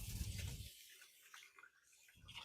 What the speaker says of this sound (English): I'm going to give my hands a quick rinse here